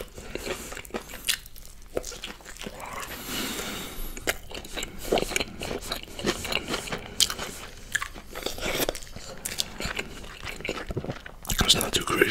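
A homemade double decker kimchi cheeseburger is eaten close up, with repeated crunchy bites and wet chewing spread across the stretch, soft whispery noise between the bites.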